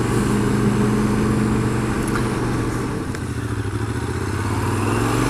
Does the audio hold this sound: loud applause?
no